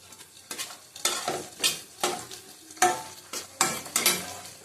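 Green chillies and shrimp sauté in a pan with onions already fried, a spoon stirring in repeated scraping strokes over a steady close sizzle, with no voices.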